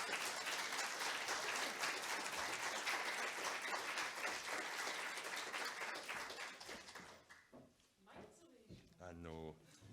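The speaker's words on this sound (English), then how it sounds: "give a round of applause" A conference audience applauds loudly and steadily as a keynote speaker is welcomed to the stage, the clapping fading after about seven seconds before a few words are spoken.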